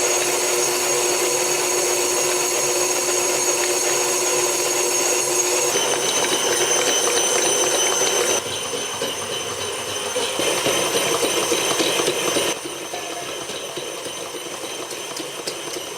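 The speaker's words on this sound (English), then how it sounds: "time to let the kneading hook of your stand mixer" A stand mixer with a kneading hook works cinnamon roll dough in a constant, loud motor whine with a rhythmic mechanical drone that shifts pitch a few times, with no talking.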